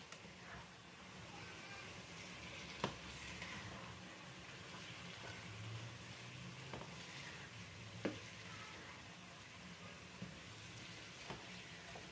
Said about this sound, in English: I'm going to add my salami and stir.